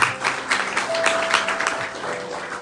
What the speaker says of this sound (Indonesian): Yang rindu tepuk tangan buat Tuhan Allah kita